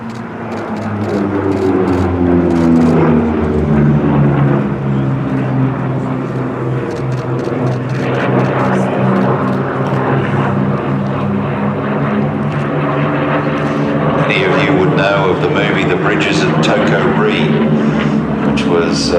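Douglas Skyraider AU-1, a heavily armoured ground-attack propeller aircraft, flies past at an air show, its steady loud piston-engine drone and propeller roar rising and falling as it passes, with a commentator talking over it.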